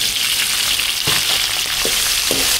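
Shrimp fry in hot oil in a pan with a loud, steady sizzle and a few soft clinks of stirring, and no voices.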